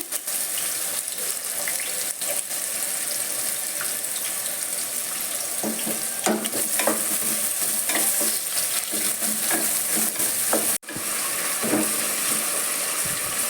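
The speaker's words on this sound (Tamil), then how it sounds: "வெங்காயம் நல்லா வதங்கட்டும்." Onions and two green chilies sautéing in hot oil for mutton gravy, a steady broadband sizzle running throughout with scattered stirring clatter, close and fairly loud.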